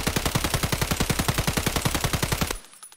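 Rapid automatic fire from an SA-58 rifle in Escape From Tarkov, a steady burst of about twenty-five loud close shots over two and a half seconds, cutting off into a short ringing tail.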